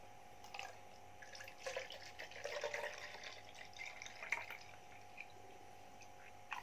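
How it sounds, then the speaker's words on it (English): Milk poured into a tumbler for a coffee milkshake, a soft, faint liquid trickle with irregular splashes and drips over a steady low hum, close but quiet, with no talking. "First, pour the milk into the tumbler."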